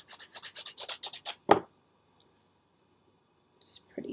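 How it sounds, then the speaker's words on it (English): Nail file sanding a glitter epoxy pen, a quick run of about ten rhythmic rasping strokes close up, then a sharp knock, near silence, and a soft rustle at the end. "I'm just going to give this a good sand"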